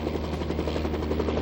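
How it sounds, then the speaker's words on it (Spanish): A helicopter flies in steady drone during the Vietnam War, its rotor beating in a continuous loud chop with a heavy low throb and no break. "Centenares de kilómetros en helicóptero"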